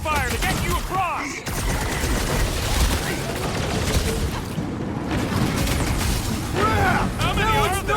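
Dense, continuous gunfire and booming explosions from a PC sci-fi shooter battle, loud and unbroken throughout, with voices shouting over the combat.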